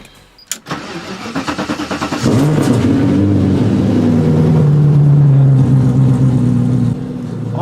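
BMW E30 fitted with a V8 engine cranks briefly with a starter whine, fires up and settles into a steady, loud idle close by, with no talking over it.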